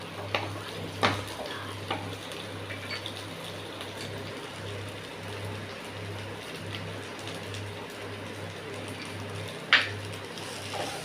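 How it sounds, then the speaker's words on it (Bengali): A spoon works through mashed yardlong bean paste with sugar, scraping and stirring in soft, uneven strokes over a steady low hum, with a couple of sharper knocks against the pan. "চিনিটা দিয়ে এবার আরেকটু নাড়াচাড়া করে নেব যাতে এটা ভালোভাবে মিক্সিং হয়।"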